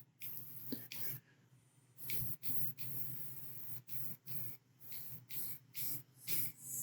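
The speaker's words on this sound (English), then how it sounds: "I'm pumping the airbrush. It just kind of, I get bigger drops or bigger splatters when I do that." Airbrush being pumped to spray paint splatters on a quarter-scale Samurai Wolverine figure, a series of short, soft hissing bursts in a fairly regular rhythm, quiet and close, with no talking.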